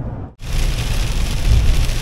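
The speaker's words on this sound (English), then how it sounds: "Always going places when it's raining." Steady rain pours down outdoors, a dense, even hiss of drops on surfaces that continues throughout, loud and close, after a brief dip at the very start.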